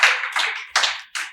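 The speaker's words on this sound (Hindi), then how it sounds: "आपको अच्छा लगे तो तालियां बजाइएगा" Audience clapping at a live Hindi comedy and poetry show, loud and close, arriving in several short uneven bursts that break off and start again.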